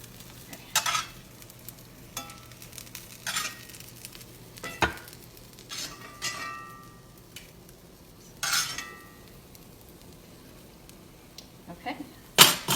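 Dandelions fried in hot oil in a pan, heard as a soft, patchy sizzle broken by several sharp utensil clinks and scrapes at irregular intervals, moderately close, with no talk.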